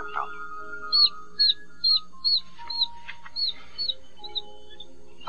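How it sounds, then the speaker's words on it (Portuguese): A series of short, evenly spaced high bird chirps, about ten in a row, as a mother bird feeds a chick, heard close and clear over quiet background. "O pássaro fêmea assume o papel de mãe substituta para o passarinho e tenta alimentá-lo."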